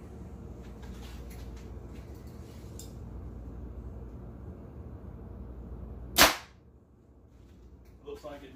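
An arrow is shot from a Hoyt Vector 32 compound bow during paper tuning, a single sharp, loud thwack and whoosh that cuts through steady low room noise, followed by quiet and a faint rustle.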